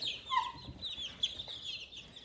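Young chickens raised alongside ducks chirp and cluck in short, fairly faint calls over soft background noise.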